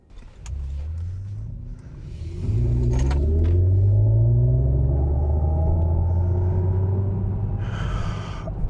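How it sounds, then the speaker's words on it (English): A 2024 Mercedes-Benz EQE 300 electric SUV plays synthetic acceleration sound: a low droning hum that swells and rises in pitch as speed builds, steady and close inside the cabin, with a brief hiss near the end and no talking. "odd it sounds to have acceleration noises in an SUV that has a battery under the floor"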